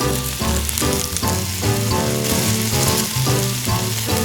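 Miniature fish frying in cooking oil for a tiny masala grilled fish recipe, a loud, steady sizzle close up that swells and dips slightly, with no talking.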